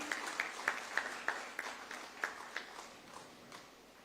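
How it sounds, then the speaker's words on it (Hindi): An audience at the launch of the Jharkhand chief minister's solar energy policy gives sparse, faint applause. Separate claps come at a loose, steady pace and fade away over a few seconds. "तालियां जोरदार होनी चाहिए आपकी तरफ से।"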